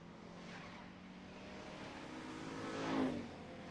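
Super street stock race cars roar around Mesa Marin Raceway, a distant engine drone that swells as one car passes nearer just before the end, with no voices.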